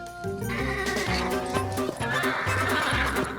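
A colt whinnies loudly nearby, a shrill, shaky neigh broken into several rising and falling bursts.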